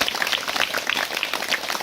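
A church congregation claps together for Jesus Christ during a sermon, a dense and steady wash of many hands that runs the full length without pause.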